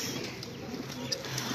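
A Moti-wala pigeon, known as Chamkila, cooing softly at close range on a rooftop loft, low murmuring coos amid faint background noise.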